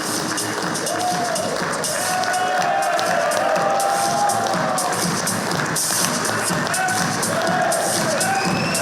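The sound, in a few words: audience clapping and cheering at foundation day event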